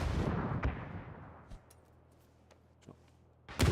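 A grenade blast in the battle royale game PUBG during a pro scrim: a loud, broad burst at the start that decays over about a second, followed by a few sharp distant gunshot cracks and another heavy boom at the end.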